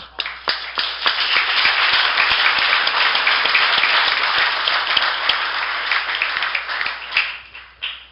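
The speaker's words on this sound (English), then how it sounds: "give them a nice round of applause" Sustained audience applause at a pool event, dense steady clapping filling the room for about eight seconds with a few louder individual claps, tapering off at the end.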